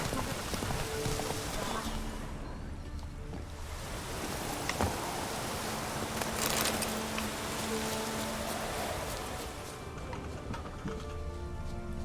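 Steady horse hoof clip-clops from The Witcher 3: Wild Hunt, mixed with a constant rain-like hiss and faint background tones, with a voice talking at times.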